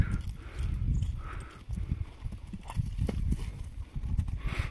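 Hooves of a horse clip-clop steadily on the ground as it is led around and turned left and right, close and fairly loud, with no talk.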